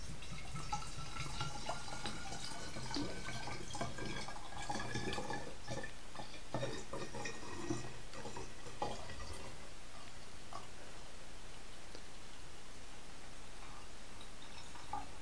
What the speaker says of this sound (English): pour most, but not all, of the whisky into your maturation bottle